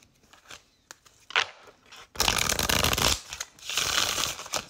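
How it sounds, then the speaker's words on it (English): A deck of tarot cards is shuffled during a love reading, giving bursts of dense riffling and soft scraping that grow louder and fuller in the second half, with brief handling taps before and no talk. "I'm going to shuffle it."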